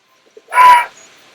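A burst of sound for the Pokémon move Brave Bird in a video game battle, a single loud, short screeching rush preceded by faint clicks, alone in silence.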